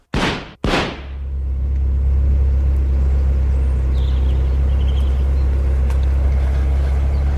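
In a dramatised audiobook scene, two sharp bangs like car doors slamming are followed by an engine starting and a steady loud rumble as the car drives off, continuing alone without voices.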